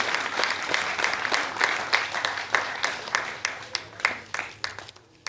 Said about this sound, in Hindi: एक बार तालियां आदरणीय डॉक्टर गोविंद व्यास जी के लिए।